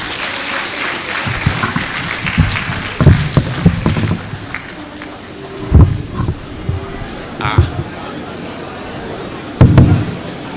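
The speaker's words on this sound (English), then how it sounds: "A round of applause, please." An audience at a university inaugural lecture in Osogbo applauds the Vice Chancellor of Fountain University. The clapping is steady and moderately loud, with bursts and thumps rising at intervals over a constant room background.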